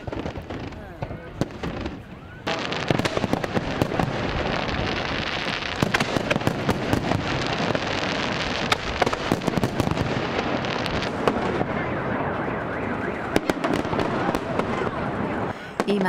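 Fireworks at a festival celebration in Yanji, a Korean-Chinese village in the Yanbian region, with a dense run of bangs, crackles and bursts that go on through the whole stretch while a voice talks underneath.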